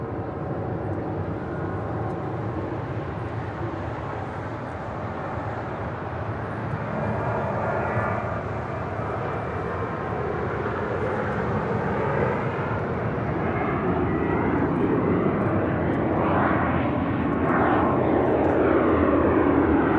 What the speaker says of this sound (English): Hawaiian A330 heading to Kahului, rolling down 24 left